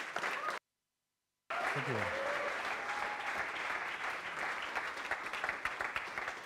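An audience at a Bergen aquaculture demo day gives a speaker a steady, dense round of applause that continues after a brief gap, while a voice briefly says thanks.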